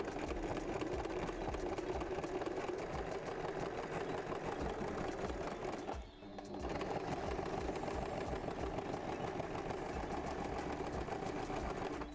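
Upcycled trousers get a simple hem around the bottom on a sewing machine, which runs as a steady, close motor hum with fast stitching rhythm, briefly pausing midway before continuing.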